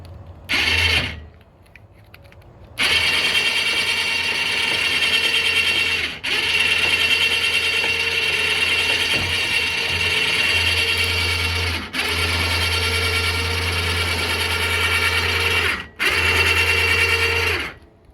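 A winch on a fishing raft whirs continuously in long mechanical runs, cutting out briefly between pulls and starting again, loud and close.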